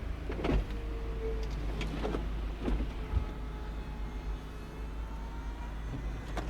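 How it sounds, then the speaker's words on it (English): The electric windows of a 2011 VW Eos whir down as the roof begins to retract. The motor hums are faint and brief over a low rumbling background. "First of all, windows go down. Sunroof starts to go back."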